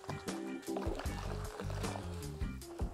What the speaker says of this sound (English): I'm gonna go ahead and rinse my wash mitt out again.